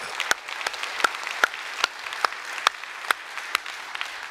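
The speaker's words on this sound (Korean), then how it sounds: "그 하나님께 우리 영광의 박수 올려주세요." Congregation applause in a Korean church service: dense, steady clapping from a large crowd with sharper individual claps standing out at a fairly regular pace, sustained without any speech.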